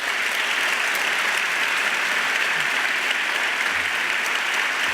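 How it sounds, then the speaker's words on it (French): Audience at the 18th Gala des Grands Prix Desjardins of the Défi OSEntreprendre breaks into dense, sustained applause that fills the hall evenly from start to finish, with no voices standing out. "Et tous ensemble, on peut les applaudir très fort."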